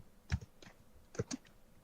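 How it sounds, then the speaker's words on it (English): Quick, forceful keystrokes on a computer keyboard come in short clustered bursts, faint and somewhat distant in a quiet room. "He's typing furiously."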